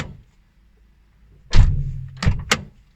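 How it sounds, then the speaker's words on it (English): A Toyota Corolla car door swings shut with a solid thunk, followed by two sharper knocks or latch clicks close by, after a near-silent pause in a quiet setting. "Shut the door"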